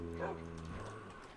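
Dogs in the video game Minecraft give short yipping barks during a multiplayer UHC match, a brief burst of tonal dog sounds over steady game background.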